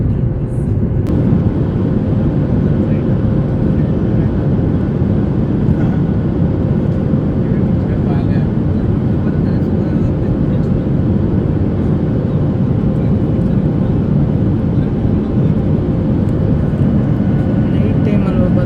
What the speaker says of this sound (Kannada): ಆಯಿತು ಟೇಕ್ ಆಫ್ ಆಯಿತು.